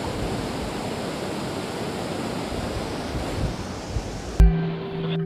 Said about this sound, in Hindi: वहाँ से पानी देखो कैसा फ्लो आ रहा है पानी का